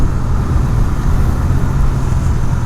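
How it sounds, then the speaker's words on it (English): A 2019 Husqvarna Svartpilen 401 motorcycle engine braking on the road, a loud, steady low engine drone with rushing wind noise, continuous and close, with no speech. "Very good engine braking."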